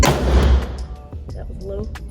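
A handgun fired with iron sights at a target at a shooting range: a sharp, loud report at the start, followed by a few fainter, sharp cracks spread across the next two seconds.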